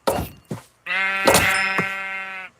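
In the video game Minecraft, two quick hit thunks come first, then a loud sustained wavering sheep bleat with another thud partway through, all close and clear.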